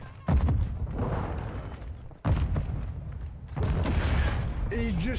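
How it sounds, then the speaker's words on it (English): Rocket launcher explosions in a Call of Duty match, heavy booming blasts that start suddenly and then roll on as loud, dense rumbling, with game noise and voices mixed in. "He just fucking blew me up with his rocket launcher and blew his self up"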